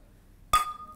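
Two wine glasses touch once in a toast, a single bright clink with a short ringing tail in an otherwise quiet room.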